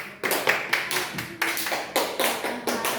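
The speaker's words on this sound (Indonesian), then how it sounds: "kita beri aplaus untuk kelompok 1" A classroom group gives applause for a student group, a run of sharp, close hand claps in an irregular rhythm, each clap crisp and fairly loud, no talking.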